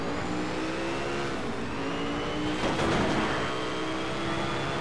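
Car engine in Need for Speed Shift, a loud, steady high revving drone with a brief swell of louder, rougher engine noise midway, close and continuous with no talk.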